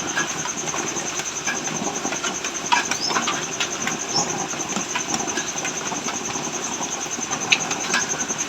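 A small 5-volt blower fan runs at its lowest setting on a rainy day, making a steady, even whir with a faint high-pitched tone that continues without pause and with no voices.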